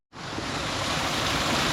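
Spring water gushing from its source beside the Bahubali (Bhange) waterfall in Mailung, Rasuwa, a steady broadband rush that starts abruptly and holds loud and close without pause.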